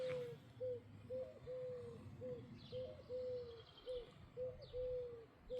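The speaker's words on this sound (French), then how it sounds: "C'est un coucou qui chante" A cuckoo calls in a garden, its two-note cry repeated about a dozen times in a steady rhythm, clear but fairly distant against quiet background hiss.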